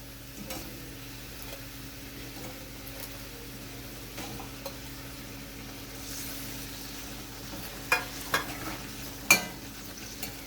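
Katla fish pieces go into a hot pan with spice water and are stirred, giving a steady low sizzle with light scraping and a few sharp utensil clinks toward the end.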